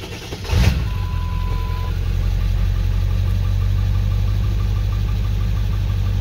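A Ford 7.3 Powerstroke diesel truck with a straight-pipe exhaust idles steadily and loudly close by, a deep, even low rumble with a clattery diesel knock after a brief rise near the start.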